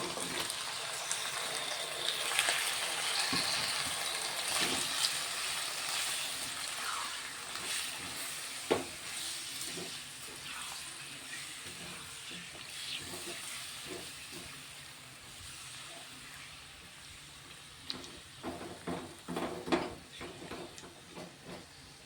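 Chicken pieces frying with onions in a pan make a steady loud sizzle and hiss, broken by occasional stirring scrapes and clinks, close by throughout with no talking.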